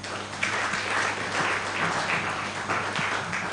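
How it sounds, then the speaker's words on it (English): An audience at a Kenyan moot court competition applauds its panelists, with steady, dense clapping throughout and a faint voice underneath. "Let us clap for our panelists."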